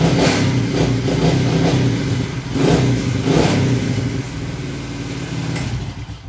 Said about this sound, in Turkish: Motorun şu an sesi bu.